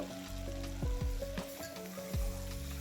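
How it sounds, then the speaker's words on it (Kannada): Onion and potato sizzle steadily in hot oil in a pan for egg biryani, with a constant close frying hiss and a few scraping stirs on the pan. "ಒಂದು ಸ್ವಲ್ಪ ಹೊತ್ತು ಚೆನ್ನಾಗಿ ಆಯಿಲಲ್ಲೇ ಫ್ ರೈ ಮಾಡ್ಕೊತೀನಿ ಈ ಈರುಳ್ಳಿ ಮತ್ತು ಆಲೂಗಡ್ಡೆ"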